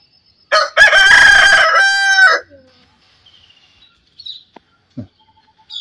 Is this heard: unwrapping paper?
no